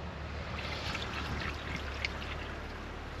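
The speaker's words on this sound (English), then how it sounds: "So I'm going to rinse it off and then we'll go plant." Running water pours and trickles steadily as a Swiss chard root is rinsed, a close, continuous broadband wash with no voices.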